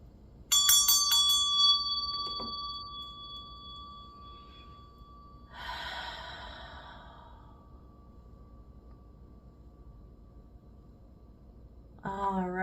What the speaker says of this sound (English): I'm going to ring my meditation bell just to clear out the space